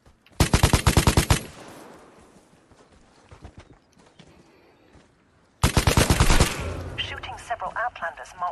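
Two loud bursts of rapid automatic gunfire from the online survival shooter Vigor, one at the start and another after a quieter stretch, the second trailing into mechanical rattles and clicks.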